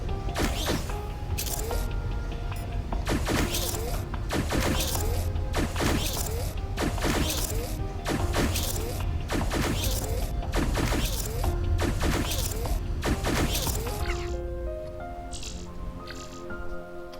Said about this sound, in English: As soon as we've got those, they get welded together, and the other 2 are pushed off and welded.